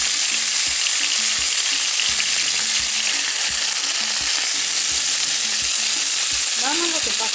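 Beef steak for bistec a la mexicana fries in a hot pan, a loud, steady sizzle with occasional stirring scrapes and knocks, close up and without talk.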